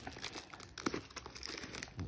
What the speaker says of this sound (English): So we're gonna rip this open and see what we get.